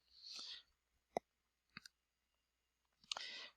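A computer mouse clicks while someone navigates a file manager, with several sharp, isolated clicks spaced apart in a quiet room, plus a couple of brief hissy bursts.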